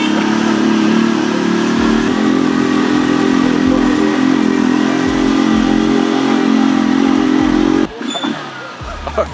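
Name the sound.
motorcycles riding up a steep hill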